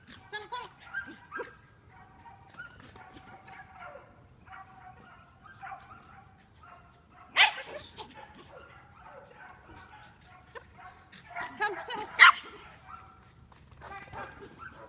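A dog barks a few times while running an agility course, sharp barks standing out from otherwise quiet moments, with some talking in the background.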